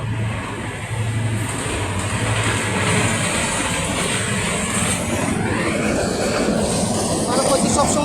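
A train passes by a rubber plantation, its continuous loud rumble swelling and holding steady over several seconds.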